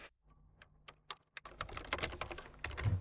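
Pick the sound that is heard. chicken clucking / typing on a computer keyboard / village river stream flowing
typing on a computer keyboard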